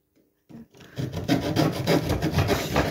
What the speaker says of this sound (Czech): Vezmete si pilku a jdeme na to.